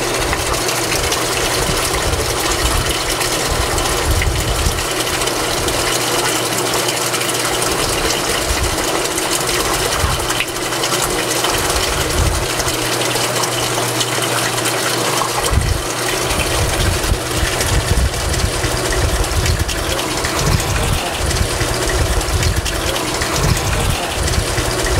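A pump pushes Barnacle Buster descaling fluid through the cooling system of an MTU 2000 series marine engine, with a steady loud gushing rush and a throbbing low churn that runs unbroken throughout, with no talking.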